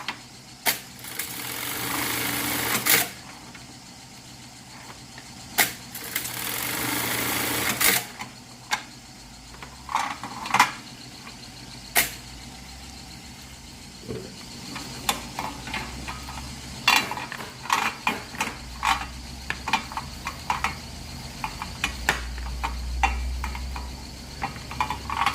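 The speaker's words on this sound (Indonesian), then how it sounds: "ini proses menjahit jaring yang bagian bawah" A sewing machine stitches the bottom section of a fishing net, running in bursts of rapid mechanical whirring with clicks and ticks between runs, moderately close with no talking.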